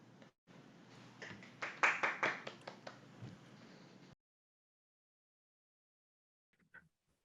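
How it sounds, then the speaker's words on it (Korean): A short burst of clapping from a small group at a business seminar as a speaker is introduced, rising quickly then fading after a few seconds, followed by silence and a faint tap. "큰 박수로 맞이해 주시면 좋겠습니다"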